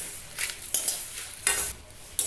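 Dry spices for Assamese mango pickle scrape and rustle in a hot pan, stirred in several distinct close strokes with light sizzling between them.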